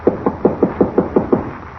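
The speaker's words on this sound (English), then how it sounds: "Knock again." Knocking on a wooden door in an old radio drama: about eight quick, evenly spaced raps, close and firm, with no voices during them.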